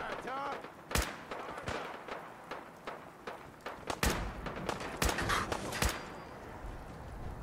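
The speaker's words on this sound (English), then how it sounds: "I just hear gunfire fucking everywhere." Gunfire in the video game Fallout 4 as scattered sharp shots and bursts crack out irregularly, some loud and close, others more distant, with a voice speaking between them.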